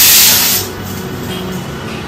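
A pressure cooker cooking dal lets off a loud burst of steam hiss that fades after about half a second into a softer ongoing hiss.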